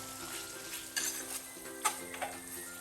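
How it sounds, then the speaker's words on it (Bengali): A spoon stirring kofta balls into masala gravy in a pan, soft intermittent scrapes and light knocks against the pot over a faint simmering background. "তার জন্য থেমে থেমে আমি এভাবে করে নাড়াচাড়া দিব"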